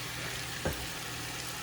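Whole wheat pasta drops into a hot pan, a brief soft burst of sizzle followed by a low, steady frying hiss, quiet and alone.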